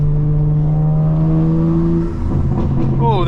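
Intake roar from a 2024 BMW G82 M4 Competition xDrive with mid pipes and downpipes under hard acceleration, a loud sustained engine drone rising steadily in pitch then dropping at a shift, heard from inside the cabin.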